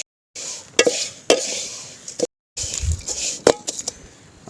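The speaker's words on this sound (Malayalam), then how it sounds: "നമുക്ക് ആദ്യം ഒരു 1/4 കിലോ അവിൽ ഒന്ന് വറുത്തെടുക്കാം." Flattened rice (aval) roasting in a pan, with scraping and stirring clinks from a utensil against the metal, a soft dry rustle between strikes, close and intermittent with brief silent gaps.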